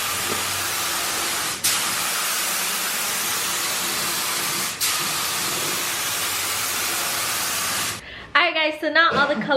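Spray paint hisses in long continuous bursts as a Nissan 240SX is painted in a garage, loud and close, with short breaks between passes, and speech follows at the end.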